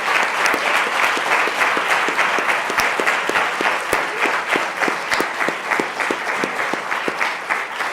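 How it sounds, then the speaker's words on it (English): Sustained applause from an audience at a hall of fame ceremony, dense overlapping claps filling the whole stretch at steady loudness, with no speech over it. "first give a round of applause for all of tonight's honorees"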